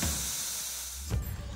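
Steam hisses steadily from a diesel-fired fire tube boiler on a hay steamer, a continuous airy rush that ends in a brief louder burst near the close.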